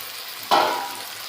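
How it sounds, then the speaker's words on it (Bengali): Fried potatoes go into a pan of sizzling meat curry, a sudden loud burst of sizzle that then settles into a steady hiss. "এবার আলু দিয়ে দেবো, ভেজে রাখা আলুগুলো"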